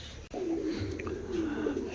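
Pigeons cooing in a loft during hot weather, a steady low warbling coo running through the whole stretch, fairly close, with a brief dip near the start.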